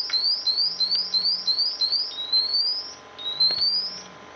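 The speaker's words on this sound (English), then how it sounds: "You can hear the monitor going to alarm." A Honeywell BW gas monitor goes into alarm during a bump test in a Microdock II docking station. It gives repeated rising electronic chirps in a fast series, then slower sweeps, steady and close, with no talking.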